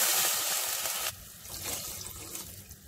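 Water pours into a cooking pot of onions and salt in a rushing stream for about a second, then stops, leaving faint splashing and trickling afterward.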